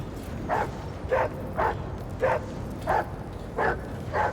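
A cyber hound in the video game Rogue Trader: Lex Imperialis barks repeatedly in a steady rhythm, about seven short barks spaced evenly, moderately loud over a low rumbling background.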